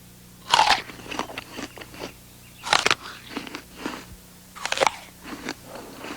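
Someone bites into a crisp orchard apple, with three loud crunchy bites each followed by wet chewing, close up and with no talking.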